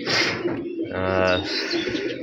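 Bagha pigeon of an old line, with a young female nearby, giving a close, loud throaty coo amid brief chirps, while a person speaks over it.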